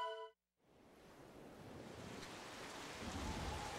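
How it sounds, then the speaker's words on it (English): Heavy rain in the Wave Race: Blue Storm video game comes in after a brief tone and a moment of silence, building into a dense, steady hiss and roar that grows louder toward the end. "There's so much rain!"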